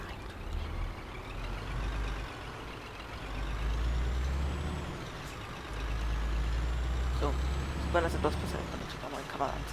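A truck in Euro Truck Simulator 2 drives with a low, steady engine rumble that swells and eases. Short air-brake hisses and faint beeps come near the end, and someone talks over it.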